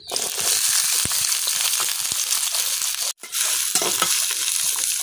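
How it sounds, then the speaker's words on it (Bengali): Onion and garlic sizzle loudly in hot oil in a wok as they are stirred, a steady close frying hiss with a brief dip partway through and no talking. "তেলটা গরম হয়ে গেছে, আমি তেলের মধ্যে দিতেছি কাটে আর পেঁয়াজ আর রসুন।"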